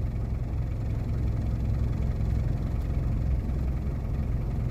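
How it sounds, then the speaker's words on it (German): An off-road vehicle's engine idles in low-range gear with a steady, even, low rumble that holds constant throughout, close and alone with no talking. "Im Leerlauf ist das jetzt diese Geschwindigkeit"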